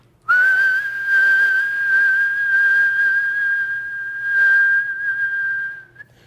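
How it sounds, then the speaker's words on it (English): A person whistles a tune, holding a clear, steady, piercing note for several seconds with slight wavers in pitch, close and alone before trailing off. "In order for me to whistle a song, I have to first figure out how to breathe it."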